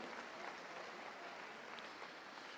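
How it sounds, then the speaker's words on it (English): Applause from an arena audience at a Crufts dog display, a steady, faint wash of clapping from a distance that carries on without pause. "Give them a big round of applause,"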